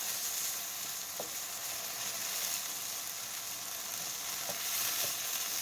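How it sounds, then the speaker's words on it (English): Browned chicken for fried rice sizzles steadily in a frying pan at moderate volume. A few soft scrapes from a utensil give it one more stir, and nobody talks. "now that that's nice and browned up, give it one more stir."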